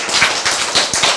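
An audience clapping at a talk: a brief burst of a few sharp, close claps in quick succession.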